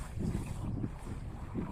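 Wind blows steadily across the barren coast of Seiland island in northern Norway during a long hike, a low rumbling rush with gusty swells and no voices.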